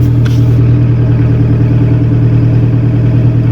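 A car's engine runs at a steady idle with the ignition on, a constant low hum heard from inside the cabin, with no voices over it.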